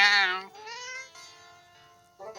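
A voice imitates a cat: a bright, rising-then-falling meow that stretches into a long, wavering tone, then a brief final yelp, close and clean with nothing else around it.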